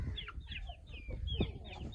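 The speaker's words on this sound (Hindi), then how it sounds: "ये देखो मुर्गियाँ" Several chickens cluck and chatter close by in a rural village yard in short, overlapping calls over a low rumbling background, with no talk.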